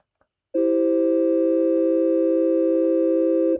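A steady, buzzy synthesizer wavetable tone with added noise giving a hissy edge switches on abruptly and holds at an even, loud level for about three seconds before cutting off.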